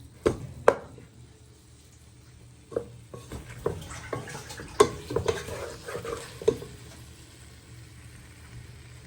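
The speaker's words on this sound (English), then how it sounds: "So with all your spices and you've added in your chopped tomatoes, what you've chopped, you want to give that a little bit of stir." Stirring spices and chopped tomatoes in a pan for chicken and spinach saag, with a spoon scraping and knocking the pan in irregular bursts over a quiet sizzle, close and without talk.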